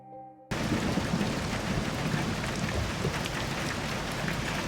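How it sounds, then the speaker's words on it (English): Steady moderate rain pouring in Lincoln City at night, a dense continuous hiss of drops that starts abruptly and stays loud and even, with no voices. "It's been raining in Lincoln City for the past week"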